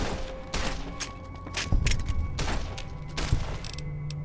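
Gunshots in the video game Fallout New Vegas come as a handful of sharp, loud cracks spaced irregularly over a few seconds, with mechanical clanks between them.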